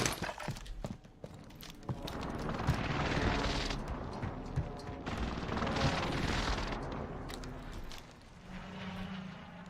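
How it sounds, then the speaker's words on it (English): Precision airstrike explosions in Call of Duty Warzone rumble through a dense stretch of booms and crackling impacts, with scattered sharp shots over a continuous low roar, fairly distant and moderately loud. "Allied precision airstrike incoming."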